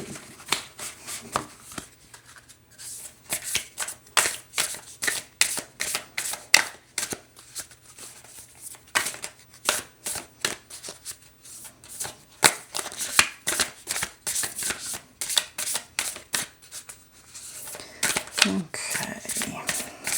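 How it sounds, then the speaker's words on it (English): Rapid riffling and shuffling of oracle cards, crisp papery bursts repeating in quick rhythm, close by and fairly loud. "I'll shuffle a little extra."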